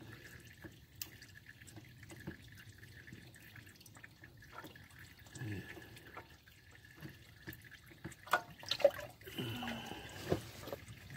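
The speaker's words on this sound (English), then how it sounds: "I got a big enough pan I can take out the filter and let it drain the oil at the same time." Engine oil draining from a Volkswagen Routan into a pan, heard as faint irregular dripping and trickling against a quiet background, with a few louder splashes near the end.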